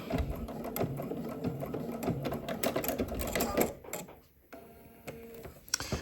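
A domestic sewing machine stitches boning into a swimsuit's bra lining, a fast rattling run of needle strokes that slows and stops, then a few brief clicks as the fabric is adjusted.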